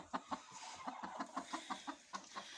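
Hens clucking inside a chicken coop, a steady series of short, rhythmic clucks close by, with no talk over them.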